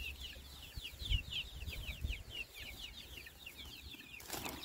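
Small chicks on a farm give a steady run of quick, high peeps that repeat in an even rhythm, close by over a low background rumble.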